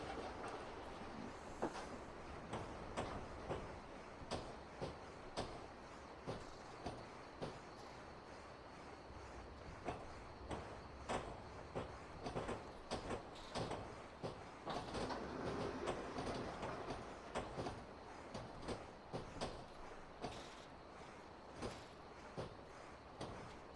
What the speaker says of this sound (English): Going to start putting some brakes on to bring the train down to a slower speed.